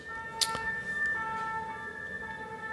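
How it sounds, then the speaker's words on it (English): A faint emergency siren wails steadily outdoors in the distance, a long drawn tone sustained beneath low background hum, with no talking. "If you hear a siren going off in the background"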